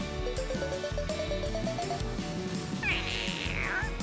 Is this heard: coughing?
no